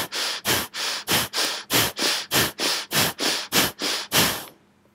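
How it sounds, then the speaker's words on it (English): Bhastrika bellows breathing: about a dozen forceful, evenly paced inhale-exhale bursts of breath, loud and close, with no talk and quiet at the end. "we'll come into Bhastrika, which is a bellows breath"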